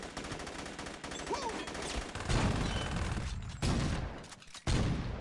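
Automatic weapon gunfire in the video game Saints Row, dense rapid bursts of shots rattling continuously, loud and close, with brief gaps between volleys.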